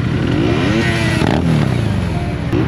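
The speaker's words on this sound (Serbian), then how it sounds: "Ovo je jedini motor koji mogu da čujem pored tvog." A motorcycle engine running loud and close, a continuous rumble with rising and falling revs and a brief clatter in the middle.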